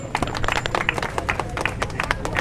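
Audience clapping at a helmet safety street demonstration, a dense patter of many hands with some crowd noise mixed in, fairly steady across the moment.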